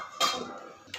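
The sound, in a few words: lid put on cooking pot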